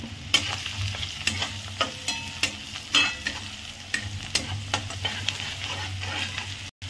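Chopped onion for egg bhurji frying in a pan, stirred with a steady rhythm of loud scraping strokes over a constant close sizzle, with no talking.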